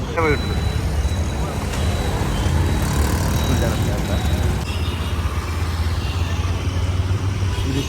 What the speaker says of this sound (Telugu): సో అంతా ఇంకా చూడండి అసలు విపరీతమైన ట్రాఫిక్ జామ్